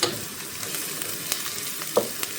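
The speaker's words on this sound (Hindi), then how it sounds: "ये हम इसमें शामिल करेंगे और इसको भी हम 1 से 2 मिनट अच्छे से भून लेंगे" Freshly pounded ginger, garlic and green chillies frying in a pot for matar pulao, a soft steady sizzle with a few sharp crackles and stirring taps, no voices.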